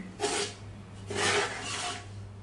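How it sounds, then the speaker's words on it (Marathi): Cardamom powder being mixed by hand into a shev ladoo mixture, heard as two close, soft rasping scrapes over a faint steady hum. "आता घातलेली वेलची पूड आपण सगळ्या मिश्रणामध्ये एकजीव करून घेऊया."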